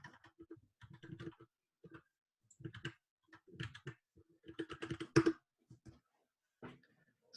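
Keys clack on a computer keyboard in irregular bursts of quick taps separated by short pauses, close and crisp with a few louder strokes and no talk.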